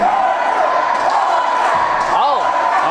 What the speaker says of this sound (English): Some crowd here cheering for the Dinobot.